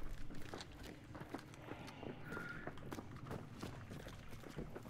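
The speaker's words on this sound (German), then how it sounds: "Hör Schritte, ganz laut." Footsteps in Hunt: Showdown thud in a quick, steady run of heavy steps, fairly close and continuous, with a low rumbling background and no talk.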